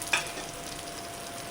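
Crushed garlic frying in hot oil with onion, cumin and mustard seeds for a drumstick amti tempering, a steady close sizzle with a brief stirring scrape near the start.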